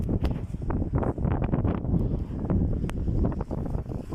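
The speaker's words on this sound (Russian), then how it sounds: "Погодка, что-то ветер поднялся." Gusting wind in an early-spring snowstorm on an icy road buffets the microphone outdoors, a series of rough, uneven rushes and thumps that rise and fall in quick succession.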